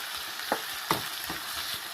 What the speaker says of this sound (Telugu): ఇలా అల్లం చిన్నులపాయ పేస్ట్ వేయించుకొని బాగా గోల్డ్ కలర్లో వచ్చేదాకా వేసుకొని